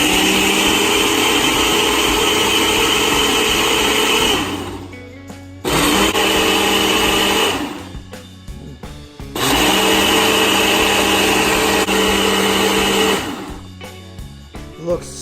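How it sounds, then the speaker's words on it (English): A loud blender whirs blending a kale smoothie in long bursts, stopping and restarting twice, its high-pitched motor roar filling the space between brief pauses. "So now let's blend the smoothie."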